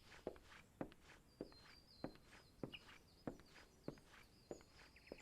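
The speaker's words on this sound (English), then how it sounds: "Why is it so quiet? Why do I have to listen to these footsteps?" Footsteps in the Final Fantasy XIV: A Realm Reborn video game land in an even walking rhythm, about nine crisp steps over a quiet background with faint chirps above.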